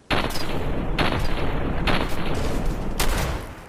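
Gunfire aimed at an enemy in the video game Fallout 4: several loud, close shots land about once a second over a continuous rumbling game backdrop, with no talking.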